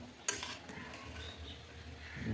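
Spoon stirring payesh, a rice pudding, in a pot, a soft scraping swirl with a light clink at the start, quiet and close with no talk.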